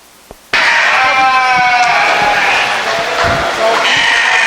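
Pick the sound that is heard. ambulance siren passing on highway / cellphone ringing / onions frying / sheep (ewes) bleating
sheep (ewes) bleating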